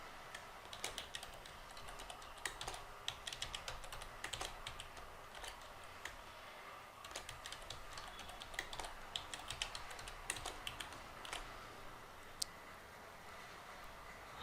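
Soft, quiet typing on a computer keyboard, irregular keystroke clicks spread over several seconds as a password is entered during a computer setup.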